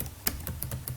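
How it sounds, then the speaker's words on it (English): Typing on a computer keyboard while entering a VLOOKUP formula in an Excel spreadsheet, a quick burst of about six sharp key clicks heard close and alone over faint room hum. "Begin typing"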